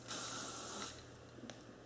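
An Elnett hairspray aerosol can hisses in one sustained spray for nearly a second, close by, followed by a faint click and quiet handling.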